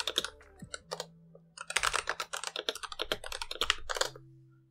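Rapid, close typing of Python code on a computer keyboard, bursts of crisp key clicks with short pauses between, alone without speech.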